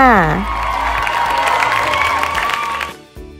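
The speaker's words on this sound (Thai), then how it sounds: "วันนี้ครูจูนมีรางวัลสำหรับคนเก่ง เป็นเสียงปรบมือและหัวใจค่ะ" A brief burst of cheering and clapping, a recorded reward sound effect for children in a first-grade Thai lesson on vowels, plays loudly after a rising whoosh and then cuts off abruptly.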